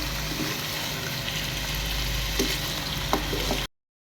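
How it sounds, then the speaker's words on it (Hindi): Beef pieces frying in a pan for a Lucknowi masala gosht, a continuous loud sizzle with occasional stirring scrapes and pops near the end before cutting to silence. "बीफ को भी हम अच्छी तरह फ्राई कर लेंगे।"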